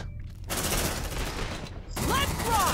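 Bursts of gunfire from a sci-fi squad shooter set in the Aliens universe, with sharp reports ringing over a brief silent gap, followed by further shots and electronic whooshing effects.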